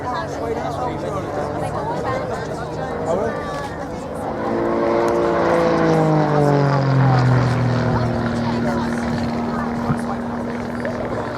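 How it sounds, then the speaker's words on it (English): A Grob lightweight aerobatic propeller plane at the Shoreham airshow, its engine drone rising and then bending in pitch as it climbs and pulls into a stall turn, heard at a distance under a commentator's voice. "There you can see the speed bleeding off at the top of that climb as Andy pulls the aircraft into a stall turn."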